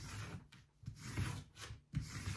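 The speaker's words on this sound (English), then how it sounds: "I'm just going to glide the scrape tool over the vinyl to make sure it's secured inside the shirt" A scraper tool rubs across heat-transfer vinyl on a shirt, giving close, soft scratchy strokes in short repeated passes.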